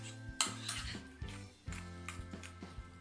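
Ricotta being stirred with sugar and chocolate pieces for a lactose-free zuccotto, a spoon scraping and clinking against the bowl in repeated close strokes, with a few louder knocks.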